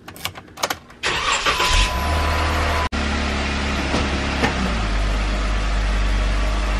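A Jeep starts up after a few clunks and rattles, and its engine catches and settles into a loud, steady close-up rumble as the vehicle is driven out.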